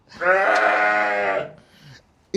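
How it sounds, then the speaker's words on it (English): A baby goat bleats loudly and close by in one long quavering cry lasting over a second, followed by a softer short bleat, on a farm with hay. "Oh, and goats. Baby goats."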